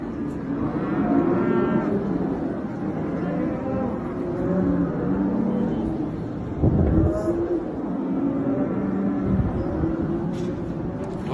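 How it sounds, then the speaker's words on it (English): Cattle during a fire low and moo repeatedly, several overlapping calls from a herd at moderate distance, under a steady background rumble with a voice speaking faintly. "Just hear the cows."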